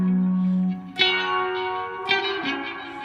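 Electric guitar through a BOSS RE-202 Space Echo pedal with saturation turned up, chords struck and left to ring into warm, driven repeating echoes and reverb.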